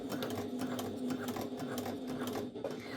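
Sewing machine running steadily as it top stitches a fabric storage pouch, a close, even mechanical whir with a rapid needle rhythm, quiet and uninterrupted.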